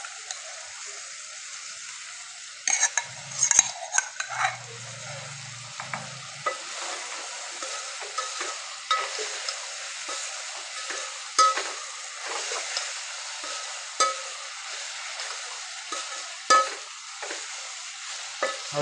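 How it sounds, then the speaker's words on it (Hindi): A spoon stirs and scrapes through ivy gourd curry with yogurt, crushed garlic and green chillies in a pan, with soft sizzling underneath and a series of irregular scraping clicks throughout. "हवे आ रीतना बरोबर आपणे मिक्स करी लईए।"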